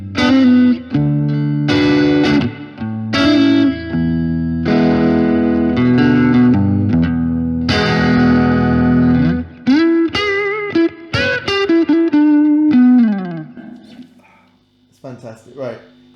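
An electric guitar played through a Blackstar HT1-R tube amp with its reverb turned up, sustained distorted chords followed by a melodic run of single notes, loud and close with a reverb tail as the notes fade out.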